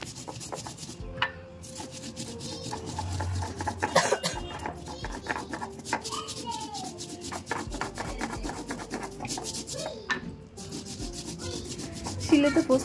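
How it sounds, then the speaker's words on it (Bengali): Poppy seeds are ground by hand on a stone grinding slab in a home kitchen. Steady, close rubbing and scraping strokes continue throughout, with a cough and faint background sounds. "শিলে তো পোস্ত বেটে নিচ্ছি"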